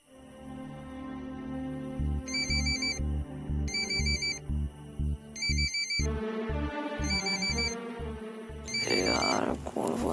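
A telephone ringtone plays as a repeating electronic melody with bright chiming bursts recurring in pulses over a music bed, loud and close, with no one speaking.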